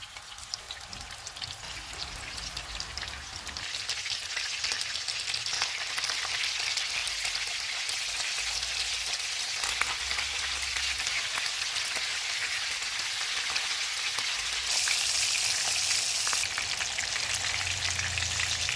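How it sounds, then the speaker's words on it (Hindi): Gola kababs fry in hot oil in a karahi over a medium flame, giving a steady, dense sizzle and crackle that runs unbroken for the whole stretch, close and alone, swelling slightly louder toward the end. "कबाब तैयार हो गए हैं, इनको फ्राई कर लेते हैं।"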